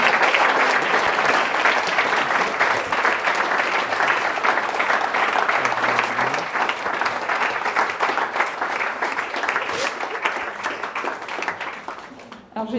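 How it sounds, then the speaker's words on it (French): Sustained audience applause at a corporate awards ceremony, dense continuous clapping from a sizeable crowd holding steady for about twelve seconds before tapering off at the end. "On peut applaudir le Gros Crochet et le groupe de presse et Drap."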